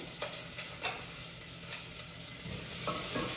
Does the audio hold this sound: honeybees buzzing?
no